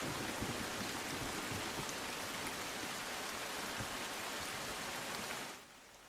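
Steady late-night rain in Gujarat pours down in a dense, even hiss, continuous and fairly soft, fading slightly at the very end.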